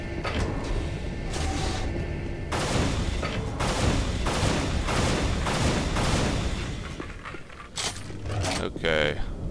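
Minigun alt fire in the Unreal video game, every barrel discharging at once like a shotgun burst: a loud, grinding mechanical roar with repeated rapid blasts and short pauses, continuing for several seconds.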